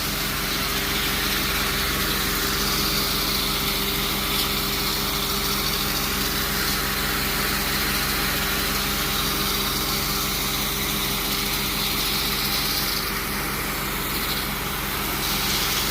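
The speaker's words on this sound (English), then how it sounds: "the truck mounts are pretty powerful machines and they bring the noise" A loud, constant mechanical roar of a truck-mounted carpet extraction machine rinsing a natural-fiber area rug close by, steady throughout with a deep engine drone and hissing airflow.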